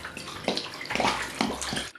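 Water poured from a container into a baking dish around a dessert mold, a steady splashing fill with a few louder gushes, close and alone.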